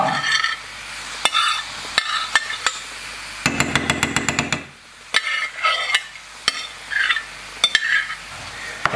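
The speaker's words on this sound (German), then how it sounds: "schön ein bisschen verteilen in der Pfanne, schön das Pilzgemisch hineingeben" A mushroom mixture frying in butter in a pan, with a utensil scraping and stirring through it. Irregular clacks and scrapes over a soft sizzle, plus a quick burst of rapid tapping midway, close up with no talking.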